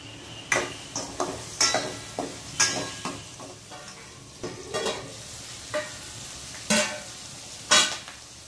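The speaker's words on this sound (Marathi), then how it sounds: "नंतर लगेच चवळी टाका आणि चवळी चांगली तळू द्या" Cowpea leaves fry in oil in a pan for a Marathi chavli bhaji. Close bursts of sizzling and stirring rise and fall in an uneven rhythm about once a second.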